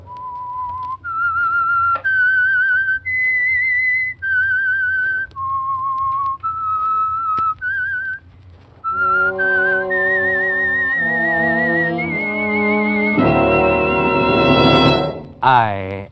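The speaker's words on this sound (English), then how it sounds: "That whistle is your signal for the Signal Oil Program" A lone whistled melody, the eerie theme of The Whistler radio mystery program, rising and falling in clear sustained notes before an orchestra swells in underneath and builds to a loud crash.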